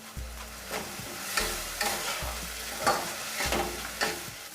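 Cabbage and red lentils sautéed and stirred in a pan, a steady sizzle broken by several rhythmic scraping stirs close by, with no talk.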